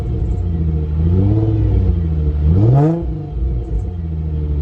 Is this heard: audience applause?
no